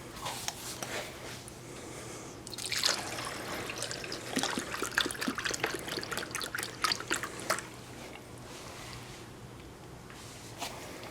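Coolant glugs and trickles into the radiator of a 1994 Saab 9000 with a B234 engine, close and fairly quiet, with irregular gurgling bursts through the middle and a continuous pour that fades toward the end.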